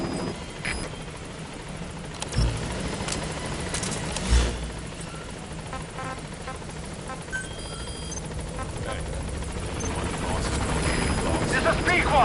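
Helicopter in Metal Gear Solid V approaching and arriving at a landing zone, a steady rotor drone throughout with radio voices talking over it.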